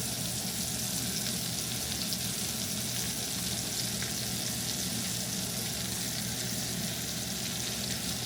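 Bacon frying in a pan gives a steady, dense sizzle and crackle that holds evenly throughout, close and moderately loud with no talk.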